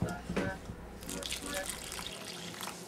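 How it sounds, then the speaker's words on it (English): Water pours into a pot in a home kitchen while gorditas are being made, a faint, splashy running trickle heard under people talking nearby. "put more water in there"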